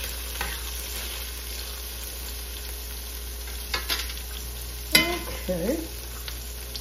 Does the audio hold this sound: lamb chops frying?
yes